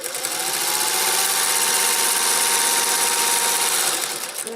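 A sewing machine stitches an apron on a long stitch setting, running at a steady, even whir close by for several seconds without pause.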